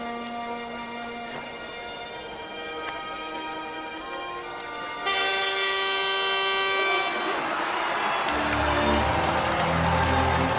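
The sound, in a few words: train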